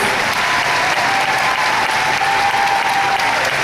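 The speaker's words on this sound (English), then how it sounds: "Give my little Brittany a big round of applause." A crowd gives Brittany a steady round of applause at a talk, dense continuous clapping filling the whole few seconds with no speech.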